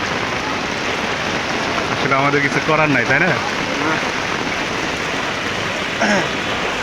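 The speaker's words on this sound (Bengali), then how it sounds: "দেখছেন এত বৃষ্টি এত পানির ভিতরে" Heavy rain pours steadily throughout, a dense close hiss of water falling on surfaces, while someone talks briefly over it in the middle and again near the end.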